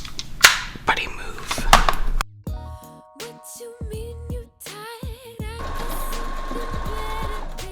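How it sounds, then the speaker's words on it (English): Domestic sewing machine stitching fabric strips together into a long ribbon, running in short bursts and then a steadier whirring run, close and fairly quiet with no talk. "Now that I've sewn this all into like a big ribbon"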